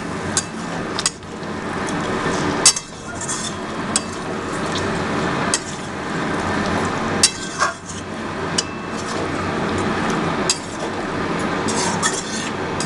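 Chicken stirred and fried in a kadhai at home, with a metal spoon clinking and scraping against the pan in irregular strokes over a steady sizzle, close up and with no talking.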